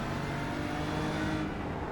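A BMW race car engine in a racing game at Brands Hatch, a continuous loud, steady drone that holds one pitch under sustained power, with no speech over it.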